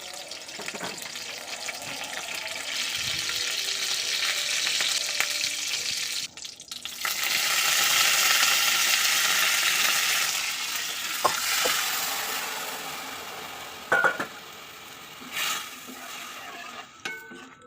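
Pepper rasam with tamarind water coming to a boil in a pot gives a steady bubbling, hissing roar that fills most of the stretch, near and fairly loud, with a few brief clinks and a short pause partway through.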